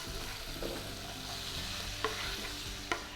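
Chopped onions frying in a stick of melted butter in a pan for squash casserole, a steady close hiss and sizzle with faint stirring scrapes and a couple of soft clinks.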